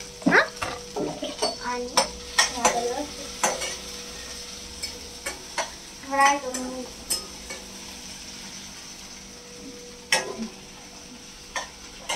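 Onion and crushed chilli-garlic paste fry in oil over spluttering mustard seeds, with a steady sizzle broken by clinks and scrapes of a spoon against the pan; someone speaks briefly.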